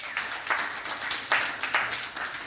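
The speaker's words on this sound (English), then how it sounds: "So round of applause to them." An audience at a live talk on The Imagination Matrix claps in scattered, uneven bursts, a modest round of applause heard up close and briefly.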